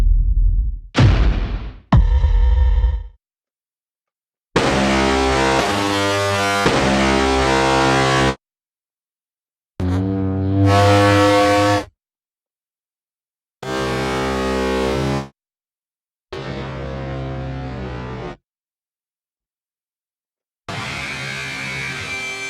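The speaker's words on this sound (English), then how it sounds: "These guitars are super wacky." Distorted electric guitar samples from the Detonator Rage library, played as separate loud bursts of heavy, fuzzy chords and stabs, each cut off by a silent gap.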